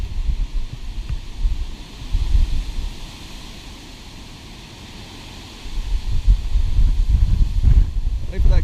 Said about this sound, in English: Wait for that gust to go away before I walk over to the door.